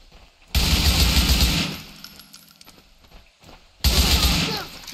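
Bursts of automatic gunfire in Grand Theft Auto IV, two loud sustained volleys separated by a quieter gap, with voices talking in between.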